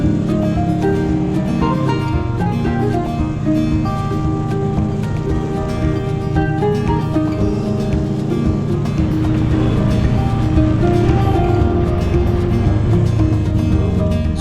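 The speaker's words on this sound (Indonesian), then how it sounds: "Suara gesekan ban dan mesin motor ini sesuatu banget buat gue." A motorcycle touring the extreme central Aceh mountain route, its engine droning steadily with tires rumbling on asphalt, heavy continuous road and wind noise throughout, loud and close, with no talking.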